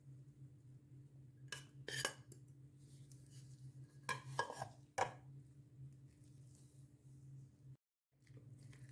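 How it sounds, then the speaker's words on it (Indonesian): A utensil stirs kebab ingredients with chopped spring onions and chives in a pan, giving scattered scrapes and clinks in a few short bursts over a steady low hum, with no talking. "Kita aduk sampai semua bahan tercampur merata."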